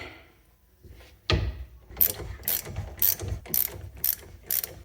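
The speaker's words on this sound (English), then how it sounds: "I'll use my long breaker bar to break these loose." A long breaker bar cracks hub bolts loose on a 2008 Infiniti FX35, one sharp bang followed by a string of metallic ratcheting clicks and clanks, close and without talking.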